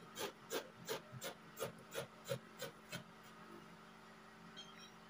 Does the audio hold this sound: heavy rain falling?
no